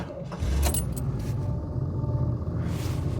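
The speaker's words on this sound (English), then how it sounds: "that's the big V8 engine fired into life" A 1970 Chevrolet Caprice 350 V8 engine rumbles steadily at idle after a brief start, low and heavy throughout, with a faint mechanical jingle early on and a loud fuel pump.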